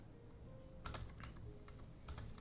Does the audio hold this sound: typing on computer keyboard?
yes